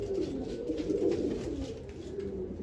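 Pet pigeons at a rooftop loft coo in soft, low, repeated calls nearby, a steady murmuring burble with no talking.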